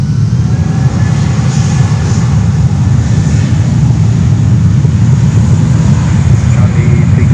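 A JetBlue Airbus A320 jet taking off at Fort Lauderdale, heard as a loud, continuous low engine roar that stays steady throughout, without any voices.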